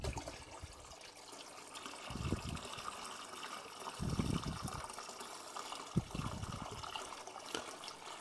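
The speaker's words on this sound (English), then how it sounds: "I'm going to add some fresh water. It's about 1 bucket of filtered tap water." Filtered tap water is poured from a bucket into a large six-foot paludarium, a quiet gushing and trickling that comes in several soft surges, faint and fairly close.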